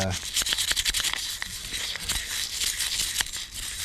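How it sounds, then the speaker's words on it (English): A plastic-bristle brush scrubs a chainsaw in quick, rough strokes, close and rasping, with uneven rhythm. "that brush I'm using is not a wire brush, it's like a toothbrush for chainsaws here, just made out of plastic fibers"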